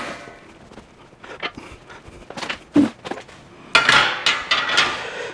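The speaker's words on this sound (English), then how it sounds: "let me get the other pan." A grill pan from a Ninja Woodfire Pro outdoor grill is handled up close, with scattered metallic clanks, knocks and scrapes that grow louder and busier toward the end.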